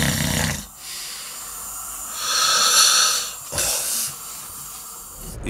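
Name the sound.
person snoring despite nasal dilator clip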